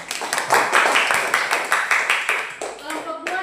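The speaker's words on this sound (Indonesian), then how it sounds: "tepuk tangan untuk kelompok 2" Classmates clap for a student group in a classroom, quick, uneven handclaps close by. They fade out toward the end as a voice begins speaking.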